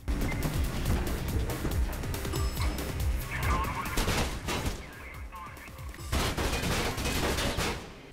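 Gunfire from the first-person parkour game Mirror's Edge, with dense overlapping shots and bursts, loud and continuous with crashing impacts throughout.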